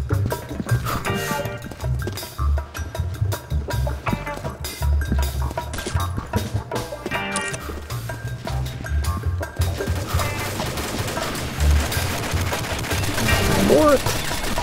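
Rapid video-game gunfire crackles in dense bursts through most of the span, with a person talking over the shooting.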